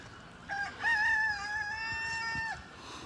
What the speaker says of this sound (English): they got a lot of chickens.